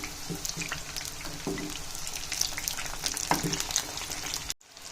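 Coated potatoes, Cajun style, frying in oil and being turned, a busy crackling sizzle with occasional clinks and scrapes up close, ending in a sudden cutoff, no speech.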